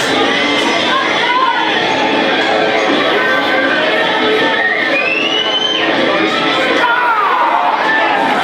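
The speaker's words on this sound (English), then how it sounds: "Give me a round of applause." A dense, loud crowd fills an indoor powerlifting meet during the squats at a national raw championship, with continuous cheering and chatter and occasional higher shouts rising above the din.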